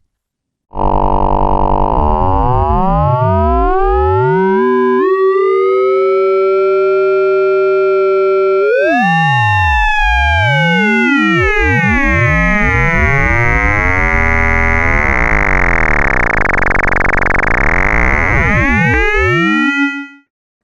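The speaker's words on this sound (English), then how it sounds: "let's hear what linear FM sounds like using an external triangle wave" A Make Noise XPO oscillator frequency-modulated linearly by an external triangle wave sweeps through shifting metallic, siren-like tones, with sidebands fanning out and collapsing in cycles, loud and steady for about twenty seconds.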